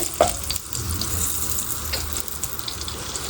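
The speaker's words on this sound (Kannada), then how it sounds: "ಇದನ್ನು ಹಾಕ್ಕೊಂಡು 1 ನಿಮಿಷ ಫ್ರೈ ಮಾಡ್ಕೊಳ್ಳೋಣ." Dried red chillies and sesame seeds fry in a pan for a mosaru sasive recipe, giving a steady close crackling sizzle with a few stirring scrapes, no voices over it.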